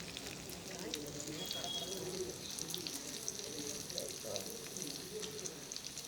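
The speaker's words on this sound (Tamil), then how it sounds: "இதே மாதிரி கொஞ்சம் கொஞ்சமாக பொரித்து எடுத்துக்கலாம்" Chicken 65 pieces deep-fry in hot oil with curry leaves added, a steady close bubbling sizzle that runs without break, with a voice speaking over it.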